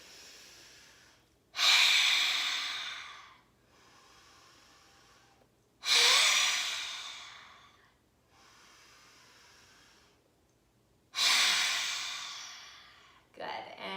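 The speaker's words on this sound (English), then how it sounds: "we're gonna do 3 lion's breaths" Three long, forceful open-mouthed exhalations of the yoga lion's breath, each a breathy hiss that trails off, separated by quiet pauses.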